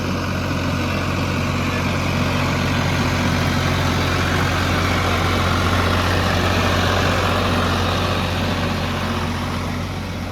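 A tractor engine runs steadily at a low idle throughout, preparing for paddy-field puddling work. The deep, continuous rumble is close and loud with no talk.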